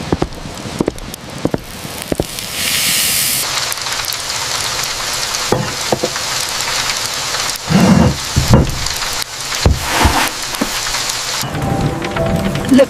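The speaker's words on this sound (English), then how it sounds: "The rain is certainly heavy today." Heavy rain pours steadily over rice fields throughout, with rumbling thunder and sharp crackles breaking through; no voices are heard.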